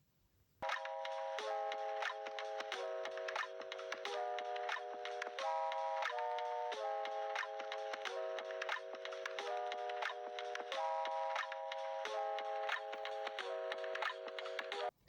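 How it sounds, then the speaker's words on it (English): A sewing machine runs a continuous straight stitch along a shoulder seam joining front and back pieces, a steady rapid mechanical ticking with rhythmic shifts in pitch, close and alone for the whole span. "go ahead and run a straight stitch, joining the front and back shoulder together"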